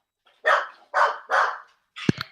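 A dog barks three times in a steady rhythm, each bark close and loud, followed by a short burst of rougher, clipped yips.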